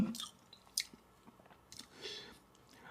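Close, quiet chewing and crunching of a meal of papaya salad, sticky rice and grilled chicken, with soft bites and mouth sounds spaced irregularly over a low background.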